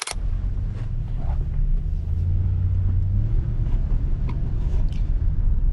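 A 2004 Toyota Tundra pickup driving along, giving a steady, loud low engine and road rumble from inside the cab, with a sharp knock right at the start and no talking.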